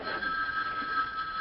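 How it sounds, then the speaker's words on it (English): A telephone bell rings steadily and close by, a sustained bright trill lasting the whole moment with no talk over it. "don't you hear the bell ringing?"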